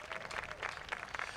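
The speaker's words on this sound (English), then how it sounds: "Give them a round of applause." Brief burst of crowd clapping at a National Day of Peace gathering for the Department of Customs, moderately loud and continuous, lasting just over a second.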